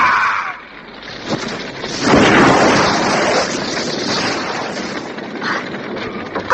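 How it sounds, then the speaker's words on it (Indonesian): A radio drama effect of a house being smashed apart: loud, continuous rumbling crashes and crumbling debris with a surge of heavier collapse in the middle, sustained throughout with no talk. "Mereka mau menghancurkan rumah ini."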